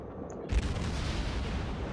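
A naval gun volley in World of Warships fired from the heavy cruiser Atago, a single deep booming report that cuts in abruptly and then rumbles on as a low sustained roar.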